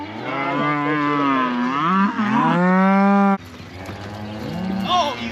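Cattle bellow loudly during spring cattle work, one long drawn-out moo for about three seconds, then a fainter low call from the herd over outdoor noise.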